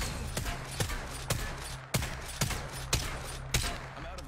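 Gunfire in Apex Legends, a run of about eight loud, evenly spaced shots, each a sharp crack over a low droning background, with no talking between them.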